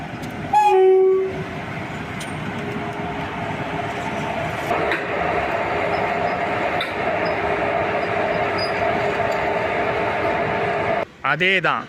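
A long passenger express hauled by an EDLS WAP4 electric locomotive pulls away after reversing. One short horn blast comes at the start, then a steady rolling rumble of coaches, and a second wavering horn at the end, with talk alongside.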